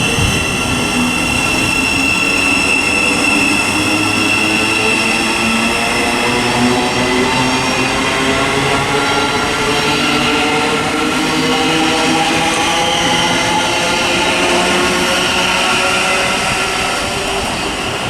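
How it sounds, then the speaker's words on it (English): A Thameslink Class 700 electric train runs through Luton Airport Parkway station on the Midland Main Line with a loud, steady rumble and rail whine that holds for the whole stretch, close by and without talk. "1551 Thameslink service to Rainham."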